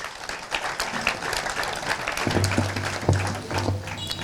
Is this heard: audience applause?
yes